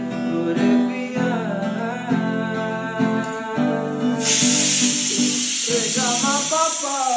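Onions hit hot oil in a pan for a meat curry, and a loud, close sizzle bursts in and holds steady after several seconds of sung music.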